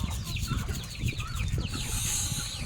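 Chickens cluck steadily and close by on a farm in Mindanao, with ducks and geese nearby, many overlapping calls forming a continuous chorus with low rustling underneath.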